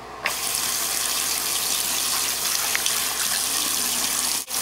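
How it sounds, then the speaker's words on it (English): Running tap water pours steadily into a sink as something is washed off under it, a continuous close gush with a brief interruption near the end and no voices. "All I know is I need to wash this off fast."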